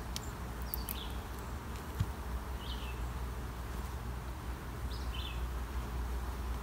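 Honey bees buzz in a steady, dense drone from an opened hive packed with bees, with a few faint bird chirps far off in the background.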